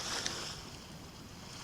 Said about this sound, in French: Ce soir, j'écoute le son des vagues